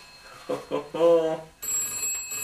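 Telephone ringing in a radio studio, a bright electronic ring entering after someone speaks briefly, then continuing steadily and close.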